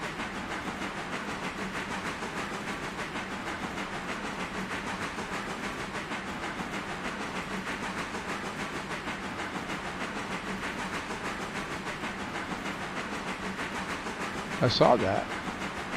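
A steady rolling rumble and hiss from a locomotive coasting downhill in the railroad game Railroader, continuous and even throughout, with a short louder clank near the end and a brief spoken remark over it.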